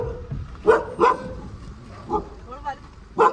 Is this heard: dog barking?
yes